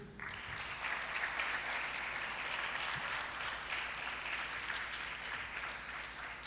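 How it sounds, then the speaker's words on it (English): An audience at Makerere applauds in honour of Ngũgĩ wa Thiong'o, a dense, steady wash of many hands clapping that starts abruptly and holds for several seconds, close and full, with no talking over it. "May I invite you to really give an applause to the name of Ngũgĩ."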